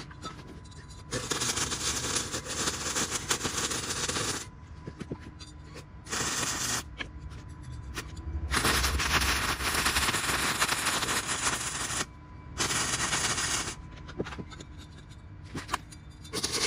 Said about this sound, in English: I'm gonna go ahead and finish welding this up